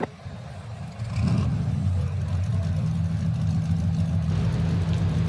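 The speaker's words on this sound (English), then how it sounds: "Driver, start your goddamn engines!" Race car engines fire up and roar as cars pull away from the starting grid at Bristol Motor Speedway in a racing video game, a steady loud engine drone building after a brief quieter start.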